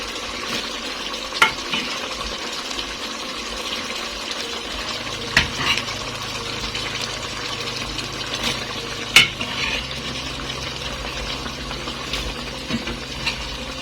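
A pot bubbles and sizzles on the stove, with occasional stirring clinks and scrapes of a utensil against the pan.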